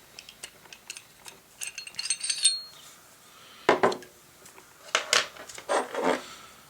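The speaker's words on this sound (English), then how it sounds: "I'll take out the barrel of the 30S." Metallic clicks and scrapes as the barrel is slid out of a Glock 30S pistol, a few quiet handling taps followed by several sharper close metal clacks and rubs.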